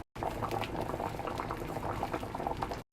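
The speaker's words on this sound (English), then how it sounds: "Bubbling up" Jamaican fish tea soup with onions, peppers, carrot and herbs bubbling hard in a pot, a dense close rolling boil that runs steadily for a few seconds.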